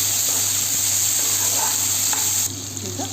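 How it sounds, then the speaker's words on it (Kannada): Chana dal, curry leaves, green chilli and onion fry in hot oil for khara bath. A loud, close, continuous sizzle runs throughout, and stirring is audible under it. No one speaks. "ನಂತರ ಕರಿಬೇವು ಹಾಕೋಣ, ಹಸಿಮೆಣಸಿನ್ಕಾಯಿ, ಈರುಳ್ಳಿ, ಇದನ್ನು ಸ್ವಲ್ಪ ಫ್ರೈ ಮಾಡ್ಕೊಳ್ಳೋಣ ಚೆನ್ನಾಗಿ."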